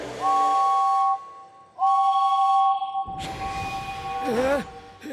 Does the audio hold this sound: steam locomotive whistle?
yes